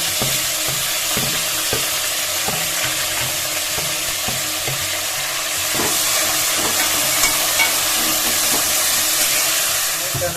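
Tomato frying in a tempering for hotel-style rasam, a loud continuous sizzle with light stirring clatter, swelling brighter partway through.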